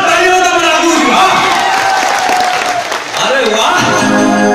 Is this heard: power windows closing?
no